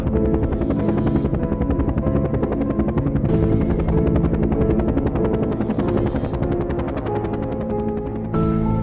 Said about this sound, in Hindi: बाबा ने हेलीकॉप्टर लैंड किया।